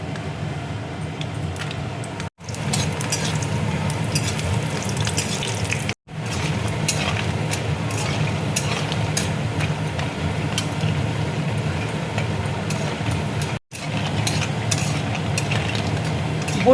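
Lentil dumplings (bori) fry in hot mustard oil with a dense, continuous crackling sizzle that holds steady for a long stretch, broken only by three brief cuts to silence.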